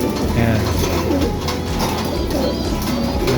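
Racing pigeons coo in a loft during feeding and watering, overlapping soft rolling coos close by with faint fluttering, fairly loud and continuous.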